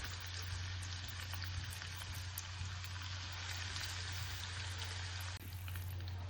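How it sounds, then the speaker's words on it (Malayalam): Chicken pieces fry in hot oil, a steady, even, crackling sizzle that holds throughout with a low hum underneath and no talking. "നമുക്കിത് ഓരോന്നാക്കി എണ്ണയിലേക്ക് ഇട്ട് കൊടുക്കാം"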